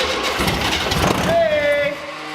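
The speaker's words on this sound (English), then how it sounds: "let's try and start it again, see what happens" A fuel-starved, air-cooled 1973 VW Beetle engine cranks and catches, its rough running rising loud and close amid people talking over it.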